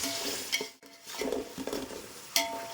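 Tomatoes and ginger-garlic paste cooking in oil for egg pulao, a soft quiet sizzle under repeated spoon scrapes and clinks against the pan, with a short pause partway through.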